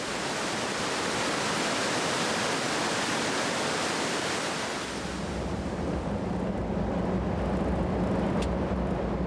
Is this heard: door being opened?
no